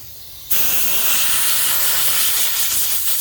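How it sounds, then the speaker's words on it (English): An air blower switching on abruptly and blasting a loud, steady hiss of rushing air at close range while clearing caterpillar nests off a Jeep TJ. "But they come off pretty easy with an air blower."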